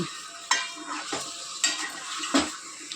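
Chicken being stirred and fried in a pot for bagara rice, a spoon scraping and clanking against the metal every second or so over a constant sizzle.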